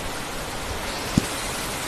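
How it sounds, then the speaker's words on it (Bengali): Heavy rain pours down in a brief, even hiss of falling water, with one tiny tap standing out near the end. "বৃষ্টি হচ্ছে ঝমঝম করে বৃষ্টি পড়ছে"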